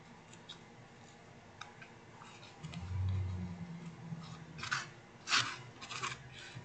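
Twine is snipped with scissors in a quiet room, giving a few short, crisp cuts and rustles that stand clear of a faint low hum.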